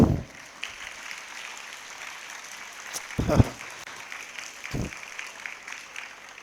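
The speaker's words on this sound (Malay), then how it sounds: "Tepukan untuk ustazah pula." An audience at a religious lecture claps for an ustazah, a light, thin patter of applause with a few sharper, louder claps or thumps standing out near the mic.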